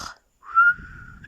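A narrator imitates a sleeping dragon's whistle: one sustained, steady whistled tone after a brief breathy start, close and fairly clear, with low soft rumble beneath.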